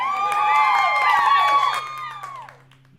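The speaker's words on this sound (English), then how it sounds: "that's an applause also for all the people who have been sharing their experience" An audience bursts into cheering and clapping, with high whooping voices riding over the applause before it fades away toward the end.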